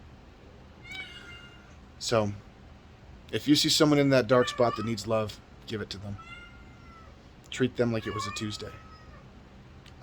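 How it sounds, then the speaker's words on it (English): A house cat meows several times, loud and near, in short drawn-out cries between and over a person's speech. "Oh, shush, cat. That's my cat."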